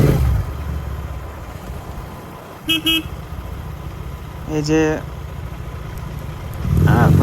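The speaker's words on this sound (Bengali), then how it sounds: "আমি এখন চালাচ্ছি বাইক, তোমরা দেখতে পাচ্ছ" A GT650 motorcycle engine while riding through traffic near a school, a steady close drone with two short horn toots partway through and louder revving at the end, with someone talking over it.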